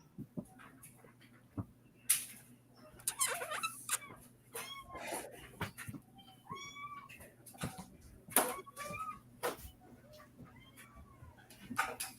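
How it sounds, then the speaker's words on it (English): A kitten meows repeatedly in a quiet indoor room, short high mews in irregular bursts, faint to moderate, with a low hum in the background. "Here, take the kitten. Take the kitten into the room with y'all."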